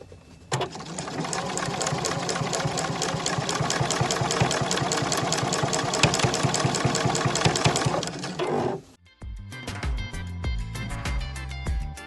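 A sewing machine top stitches down the long edges of fabric straps made from scraps, running in a fast, steady close rattle for about eight seconds before slowing into a few short bursts.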